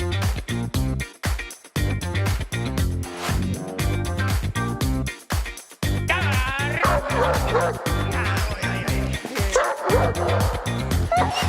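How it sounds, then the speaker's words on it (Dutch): A working dog barks on command in short repeated bursts, close and loud, amid busy background sound with a denser stretch of noise in the second half. "Ze hebben Bouke geleerd om te blaffen op commando"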